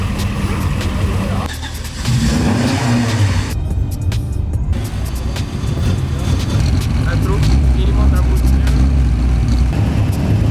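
Rear-wheel-drive rally car engine roaring and revving continuously at close range on a rally stage, loud throughout with a brief dip, while a voice talks over it.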